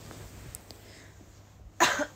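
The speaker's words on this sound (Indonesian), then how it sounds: "Maaf ya kok tiba-tiba aku batuk." A single short, sharp cough near the end, loud and close, following quiet room noise.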